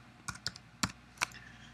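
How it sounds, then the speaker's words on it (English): Four separate key clicks on a computer keyboard as a word is typed, crisp and close, with quiet gaps between strikes and no voices. "type in whatever word you want to type"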